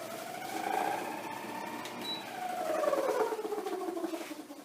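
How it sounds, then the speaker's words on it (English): A noisy Haier air conditioner with a faulty fan runs alone in a workshop, giving a steady whirring drone with wavering tones that rise and fall. "Today we're going to take a look at a noisy air condition"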